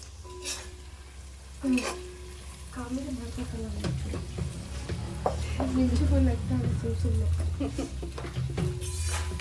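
Fresh, washed mushrooms go into hot masala in a pan for a mushroom biryani, giving a steady sizzle and frying crackle with clinks of stirring and voices talking over the cooking.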